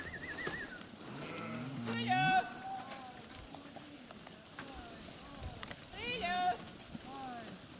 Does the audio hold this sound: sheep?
yes